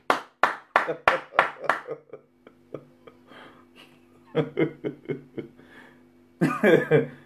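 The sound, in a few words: audience clapping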